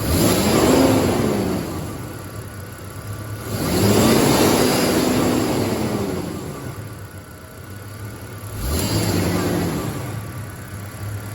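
A car engine revs in three snapped-throttle bursts during a manifold pressure sensor test, each swelling sharply and falling back to a steady idle between them, close and fairly loud.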